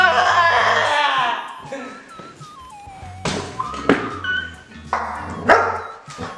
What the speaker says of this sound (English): I said that was a dog!